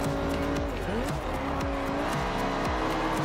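Racing car engines whine and shift in Forza Horizon 2 gameplay, with repeated tire squeals and quick pitch swoops layered over a busy, continuous motor roar.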